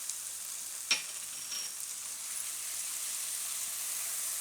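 Gravy with kasuri methi for a cashew-mawa curry sizzles softly and steadily in a pan, with a brief sharp clatter near the start as the leaves go in, then a continuous faint hiss.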